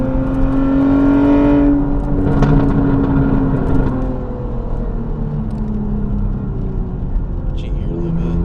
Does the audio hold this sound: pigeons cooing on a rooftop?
no